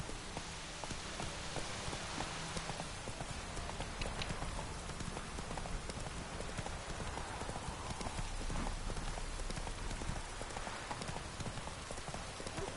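Roach, the horse in The Witcher 3, gallops through rain with a steady, quick clip-clop of hooves over continuous rainfall hiss, fairly close and even throughout.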